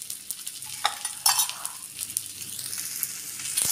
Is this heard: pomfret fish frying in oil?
yes